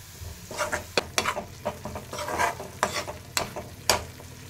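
A spoon stirs and scrapes masala sizzling in a pan of oil for a bottle gourd curry, with repeated sharp scraping strokes over a steady frying hiss, close up and without talk.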